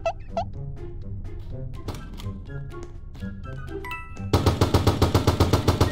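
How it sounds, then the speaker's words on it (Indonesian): Gunfire in a Roblox shooting game, scattered single shots and clicks early on, then a rapid, loud, evenly spaced automatic burst near the end, alone with no talk. "Asal tembak aja coy."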